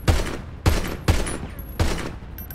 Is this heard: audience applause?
no